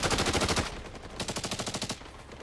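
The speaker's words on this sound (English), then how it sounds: "What are we shooting at? Are we getting shot at?" Machine-gun fire in a war movie: rapid bursts of sharp, evenly spaced gunshots, a dense volley followed by a second rhythmic burst of about a dozen shots, moderately distant and with no talk.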